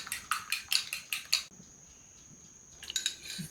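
Eggs are beaten in a small bowl, quick rhythmic clinking strokes of utensil against the bowl, a pause of near quiet, then the rapid tapping resumes briefly.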